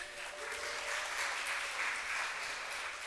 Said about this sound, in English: one more round of applause for Kylie